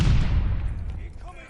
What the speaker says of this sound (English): Heads up! Allied mortar fire coming.